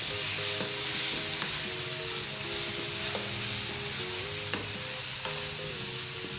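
A paste of tomato, clove, garlic and cinnamon fries with split urad lentils in oil, giving a steady close sizzle with faint scattered stirring scrapes and no talk.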